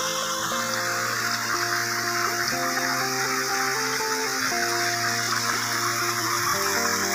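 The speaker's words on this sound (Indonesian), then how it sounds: "Ini sungai. Sungai. Sungai kecil" A small river flows past an Indonesian coffee garden, a steady close rush of water that fills the whole stretch, with a low tonal drone running underneath.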